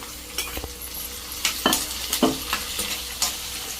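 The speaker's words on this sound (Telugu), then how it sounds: "ఈ ఆనియన్స్ ఒక సిక్స్టీ సెవెంటీ పర్సెంట్ వరకు కుక్ అయిపోవాలన్నమాట అప్పటి వరకు ఇలా మీడియం ఫ్లేమ్లోనే ఇలా వేయించుకోవాలి" Onions frying in oil over a medium flame, cooked with curry leaves for an amaranth leaf tamarind stew, sizzling steadily with a few sharp stirring scrapes.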